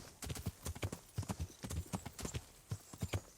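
Horse hooves clip-clop at an even walking pace in the video game Kingdom Come: Deliverance, with crisp, regular footfalls heard quietly and with no talk over them.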